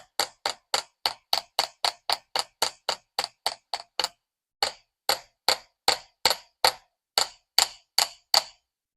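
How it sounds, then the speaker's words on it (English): Sharp metallic hammer strikes flattening wire for a wire-wrapped cuff ring out in a steady rhythm, about two per second, with a short pause before the blows continue, close and alone. "After we hammer the center part in between these two marks"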